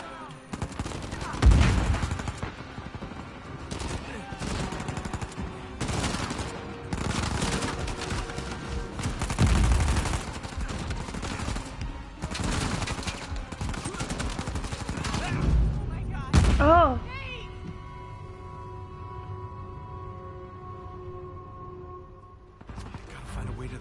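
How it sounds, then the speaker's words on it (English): Gunfire in Uncharted 4 from a heavily recoiling gun, repeated loud bursts of rapid shots separated by short pauses, followed by a rising whine and a quieter stretch of steady tones at the end. "I hate this gun so much, there's so much recoil."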